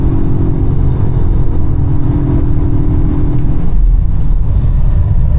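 A Polestar 1 accelerates under hard throttle on a track with traction control off, giving a loud, steady engine and drivetrain roar whose tone shifts abruptly about two-thirds through, with no talking.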